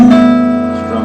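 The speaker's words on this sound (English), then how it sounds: "So all together, the guitar is going to sound like this." Tuned guitar strings strummed together in one chord, a single strong ringing strum that sustains and slowly fades over a second, heard alone.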